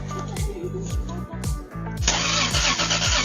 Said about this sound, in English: When a car-crazy kid wanted to hear this Supra's engine